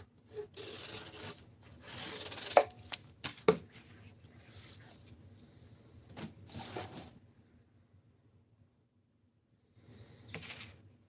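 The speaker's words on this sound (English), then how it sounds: "we're going to sharpen it and go back in on it again and see how the new edge does" A knife blade is sharpened with repeated scraping strokes, rasping passes in uneven bursts that stop, pause in silence, then resume briefly near the end; close and fairly quiet.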